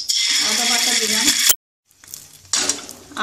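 Ginger paste hits a spoonful of hot oil in a kadai while preparing a vegetarian banana flower cutlet, sizzling loudly, cutting to a brief silence, then resuming with a softer sizzle and a clink of utensils.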